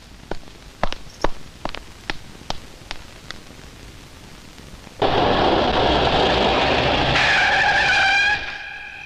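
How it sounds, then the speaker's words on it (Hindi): Footsteps click several times in a garage, then a car starts up and is driven out with a loud, steady engine and tire rush that fades near the end. "नीचे जाकर गैराज से गाड़ी निकालो"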